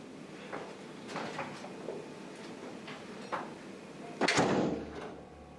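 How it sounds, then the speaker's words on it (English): A door is opened and shut with a sharp bang, preceded by a few soft knocks and clicks from handling it. "let me get that door"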